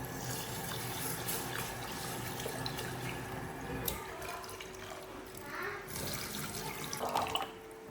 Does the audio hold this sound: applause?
no